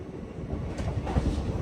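A train rolling along the tracks past Nagarsol at night, heard as a steady low rumble with faint wind noise and soft rhythmic rail knocks building slightly toward the end.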